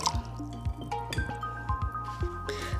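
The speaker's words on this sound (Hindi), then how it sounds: "तो हम थोड़ा सा और पानी डालेंगे इसके अंदर।" Water being poured into a thick breakfast batter and stirred in, heard as close, wet squishing and dripping with repeated soft clinks of a utensil against the bowl.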